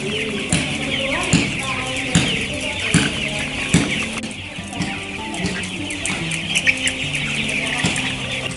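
A broiler coop holding 1,500 meat chickens fills with a steady chorus of cheeps and clucks from many birds, with scattered soft thumps and faint voices underneath.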